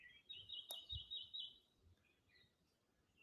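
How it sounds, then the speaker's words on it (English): Birds in trees at a lookout near Honolulu give a few faint, high chirps and a short trilled call over a quiet background, fairly distant and sparse. "You can hear the beautiful birds chirping."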